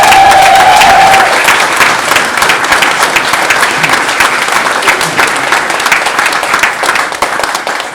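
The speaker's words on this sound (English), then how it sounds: "Can we have a massive round of applause?" A concert audience at the Christmas concert gives loud, sustained applause, with dense clapping filling the room throughout. A voice is briefly heard over the clapping near the start.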